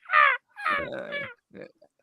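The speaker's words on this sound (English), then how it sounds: "is that the seagulls?" Gull-like harsh bird calls, three raspy squawks in quick succession, loud and close with no talk over them.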